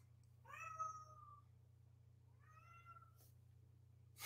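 A cat lets out two drawn-out meows a couple of seconds apart, faint and fairly close, over a steady low electrical hum in a quiet indoor room.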